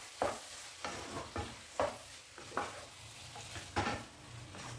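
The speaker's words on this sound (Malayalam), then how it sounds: "ചേർത്തതിന് ശേഷം നന്നായിട്ട് ഇങ്ങോട്ട് ഇളക്കി യോജിപ്പിക്കാം" Soybean chunks get stirred into a masala curry gravy, giving soft, quiet scraping strokes of a spoon in the pan at a loose rhythm over a faint low bubbling, close and without talk.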